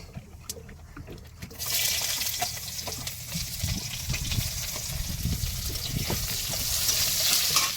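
Chopped onion goes into hot oil already crackling with cumin seeds, and after a quieter opening a loud, bright sizzle bursts up and keeps frying steadily, with faint stirring scrapes underneath.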